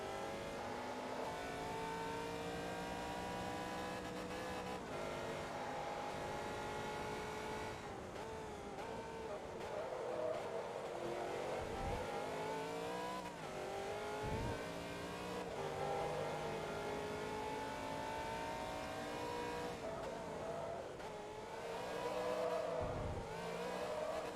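Race cars in the video game Forza Motorsport 2 rev and whine continuously in a Viper and Supra race, engines rising and falling through gear shifts with occasional tire squeal, steady and faint.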